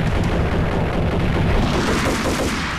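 A grenade explosion in the video game Max Payne, a loud, dense roaring blast that fills the whole moment and holds steady without a pause.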